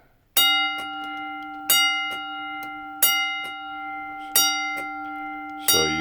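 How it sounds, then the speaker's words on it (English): An 8-inch electric alarm bell strikes at a steady, evenly spaced pace, five bright ringing hits in all, each decaying into a sustained metallic hum. "That is the 8-inch one, and then it's just the single set."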